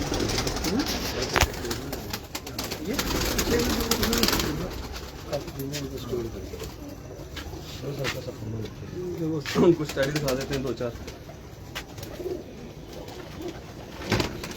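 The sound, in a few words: pigeons cooing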